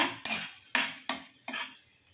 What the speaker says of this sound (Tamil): பட்டர் போட்டுட்டு பட்டை கிராம்பு ஏலக்காய் போட்டு நல்லா வதக்கிடுங்க